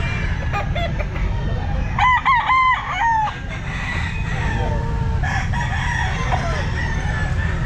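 An 8-month-old Boston Roundhead gamefowl rooster crows loudly and close at a pet market, a single ragged crow with clucking and faint crowd noise around it.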